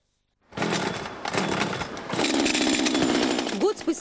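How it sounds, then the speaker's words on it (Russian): A chainsaw runs in a forest being cleared after the 2013 summer wildfires, a steady loud buzzing whine that starts abruptly and holds throughout, with a brief louder rise near the end. "после летних пожаров 2013 года не стихает на Альгуле шум бензопилы"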